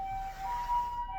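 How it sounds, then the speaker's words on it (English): An ambulance siren wails steadily in the distance outside, a sustained tonal sweep that swells slightly and then fades, with no talking over it. "Okay, there is an ambulance."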